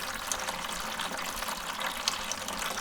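Wort draining from the grain bed of a homebrew mash for a light ale, a steady close rush and trickle of liquid running on without pause.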